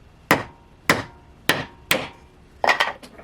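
Hammer strikes flattening a small zinc piece for a leather Jedi cosplay belt: four sharp, evenly spaced metallic blows, then a quick cluster of lighter taps, close and loud with no talk.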